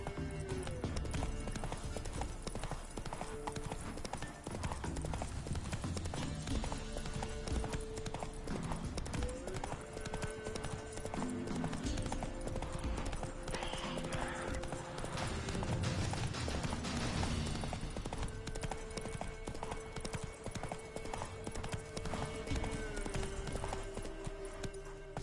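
Geralt's horse trotting in The Witcher 3, the hooves clip-clopping in a steady rhythm under a sustained musical score for the full length.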